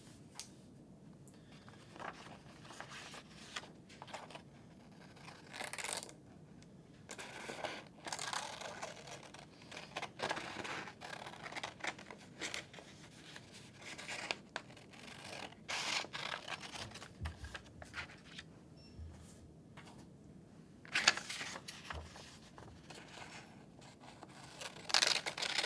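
Scissors cut out paper fins for a rainbow fish craft, producing soft, close snips and paper rustles in uneven bursts over a faint, quiet background.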